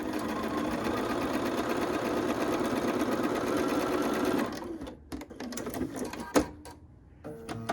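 Sewing machine stitching quilt fabric pieces under foot-pedal control, a loud, fast, steady stitching run that stops abruptly, followed by scattered clicks and handling noises.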